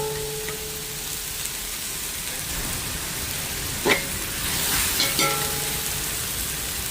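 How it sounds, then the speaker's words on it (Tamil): Tomatoes sauté in a pan for chicken curry, giving a soft, steady hiss with a few faint clicks and taps from stirring, and no voices. "தக்காளி பழத்தை சேர்க்குறேன். தக்காளி பழம் கொஞ்சம் வதங்கட்டும்."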